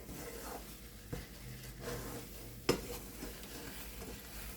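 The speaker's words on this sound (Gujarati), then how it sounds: "બરાબર હલાવી દઈશું." Dry ginger powder stirred into a gundar paak mixture in hot ghee, with a soft steady scraping and gentle sizzle, a couple of sharp utensil knocks on the pan, no voices.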